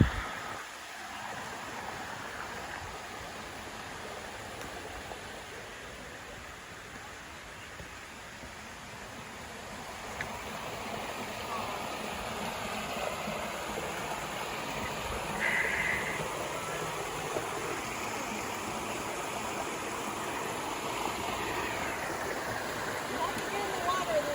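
Creek water flows near Maunawili Falls in Hawaii, a continuous broad rushing wash that grows slightly louder partway through, steady and close with no distinct breaks.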